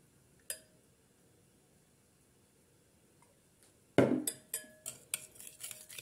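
Egg, sugar, salt and oil for a savory börek dough are stirred together in a bowl: after a single clink and a long quiet pause, a burst of close, rhythmic utensil clinks and scrapes against the dish.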